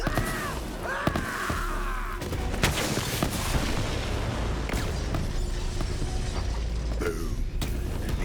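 Planted bombs detonate in a forest in the Borderlands 3 video game, a heavy booming blast followed by rumbling explosions and crackling gunfire-like bursts, with a brief voice at the start.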